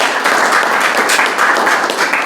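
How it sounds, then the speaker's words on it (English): A roomful of people at a school board work session claps for a school department team, a dense, even wash of applause at full volume throughout, with no clear voices above it. "I want to give Mr. Grant and his team a round of applause"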